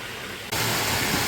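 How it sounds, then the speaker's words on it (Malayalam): Waterfall below a forest stream, a steady broadband rush that jumps suddenly louder midway and then holds constant, no talk. "ആ ചോല കഴിഞ്ഞിട്ട് പിന്നെയുള്ള വെള്ളച്ചാട്ടമാണ് ഇവിടെ"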